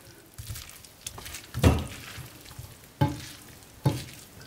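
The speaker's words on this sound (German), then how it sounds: "Tun wir ein bisschen umrühren noch." Rice with chicken and vegetables is stirred in a pot, giving soft scraping with a few distinct spoon knocks against the pot under a low, steady background.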